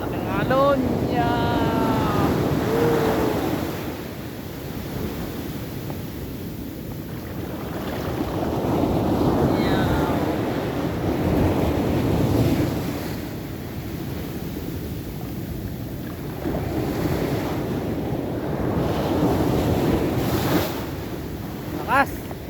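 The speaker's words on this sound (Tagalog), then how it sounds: "parating ang malaking alon" Strong ocean waves surge and crash in slow swells at San Juan, La Union, under heavy wind noise, with voices exclaiming intermittently.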